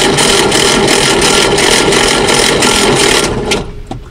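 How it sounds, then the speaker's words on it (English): A Citroen 2CV engine cranking without starting, a loud, steady, rhythmic churning of the starter for about three seconds before it stops and fades away. "Crank it."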